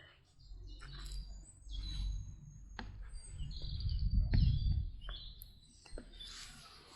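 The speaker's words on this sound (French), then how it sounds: "Écoutez les oiseaux et regardez le temps." Small birds chirp and tweet in a garden on a mild mid-February day, with quick high calls scattered throughout alongside soft rustling and handling noises close by.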